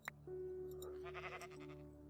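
A single sheep bleating in the TerraFirmaCraft video game, one drawn-out wavering bleat over a steady low game ambience with a sustained tone, fairly quiet.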